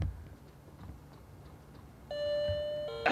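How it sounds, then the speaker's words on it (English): A quiet room, then an electronic chime rings out in a sustained tone and a second chime follows near the end. "Push the doorbell."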